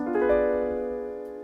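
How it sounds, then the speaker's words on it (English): A sustained fully diminished chord, stacked minor thirds, rings out on a keyboard instrument after a soft attack, holding steady and slowly fading, with no voices. "That's a completely diminished chord."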